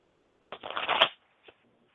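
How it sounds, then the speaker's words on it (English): A deck of tarot cards riffled in one brisk burst of about half a second, fairly close, followed by a faint tap and then quiet. "I'm shuffling."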